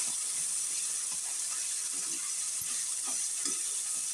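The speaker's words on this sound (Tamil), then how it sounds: "நம்ம உப்பை போட்டு நல்லா வதக்கணும். கொஞ்சமாக தக்காளி மசியணும்" Tomatoes with salt sautéing in a pan make a steady, even hiss of frying with faint soft stirring taps throughout, moderately loud and unaccompanied by speech.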